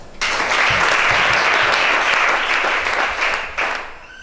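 A church congregation bursts into loud, sustained applause during a worship service, with dense clapping holding steady before tapering off near the end.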